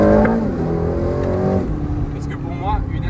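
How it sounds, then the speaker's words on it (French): Aston Martin Vantage 2024 with a twin-turbo AMG V8, its engine revving loud and close in a rising snarl that drops to a lower rumble, with a voice talking over the tail end. "le bruit du V8 AMG était trop agressif, trop sportif"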